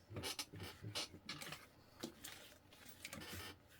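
Sewing machine stitching the Annette handbag, running in short mechanical bursts with pauses between, close and fairly quiet, rhythmic needle chatter rising and stopping several times.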